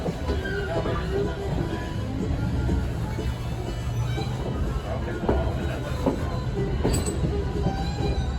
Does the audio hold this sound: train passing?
yes